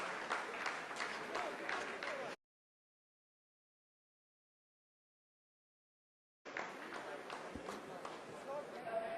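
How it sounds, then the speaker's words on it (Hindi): Scientists in ISRO mission control applaud during the Chandrayaan-3 landing, a dense continuous clapping that runs for about two seconds, cuts to silence, then returns at a similar level near the end. "आप इस तालियों के गड़गड़ाहट को सुन सकते हैं"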